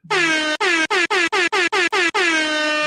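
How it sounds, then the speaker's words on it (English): A loud soundboard air horn blasts repeatedly in quick bursts, about nine honks in a row, with the final one held longer. "what soundboard would be complete without an air horn?"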